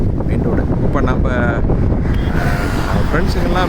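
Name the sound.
strong wind buffeting a motorbike while riding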